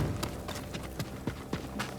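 Samurai horses' hooves clip-clop in the video game Ghost of Tsushima, a series of sharp irregular hoof strikes at close range over low background ambience, with no talking.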